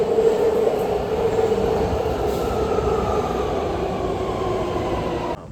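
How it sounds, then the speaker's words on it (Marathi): BART train at a San Francisco Bay Area station, a steady loud rumble of railcars with a faint wheel squeal rising near the end, no voices. "हे आहे बार्ड ट्रेन."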